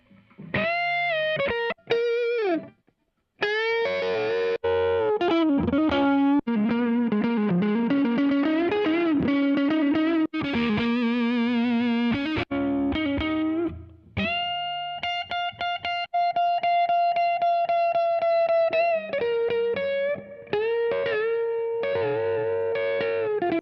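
Distorted electric guitar through a simulated Overdrive 800 amp in Toontrack EZMix 2, a crunchy overdriven tone, playing busy riffs and held notes with brief pauses between phrases.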